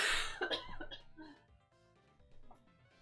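A close, loud cough bursts out at the start, followed by a couple of softer throaty coughs and quiet breathing.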